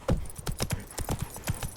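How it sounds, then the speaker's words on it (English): Horse hooves clip-clop on a road in a video game, a steady run of distinct, fairly close thuds at an even trotting pace. "Your horse won't lose stamina while using this option to automatically follow a road"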